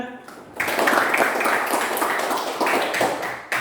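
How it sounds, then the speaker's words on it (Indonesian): An audience at a religious talk breaks into applause, a dense burst of many hands clapping that starts suddenly after a brief pause and carries on steadily to the end. "Tepuk tangan."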